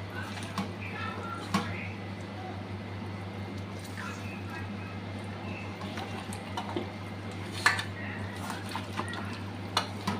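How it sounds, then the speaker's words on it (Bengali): Chicken being mixed by hand with black pepper and lemon, quiet wet squishing and light clinks from a bowl over a steady low hum, faint and intermittent. "চিকেনটা আমি গোলমরিচ দিয়ে গোলমরিচ আর লেবু দিয়ে একটু সময় মেখে রাখবো।"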